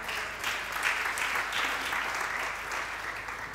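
A church congregation breaks into steady, dense applause to acclaim the Lord, a continuous crowd clatter that swells slightly and holds for a few seconds with no talk over it.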